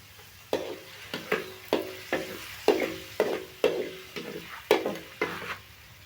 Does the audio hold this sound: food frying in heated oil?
yes